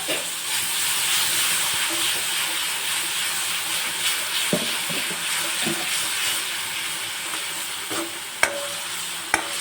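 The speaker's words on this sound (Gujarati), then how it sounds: "હવે આપણે બધું જ મિક્સ કરી દેશો" Spices being mixed into food in a hot pan, with a steady sizzle and hiss under scraping stirs and a few sharp clinks of the spoon against the pan.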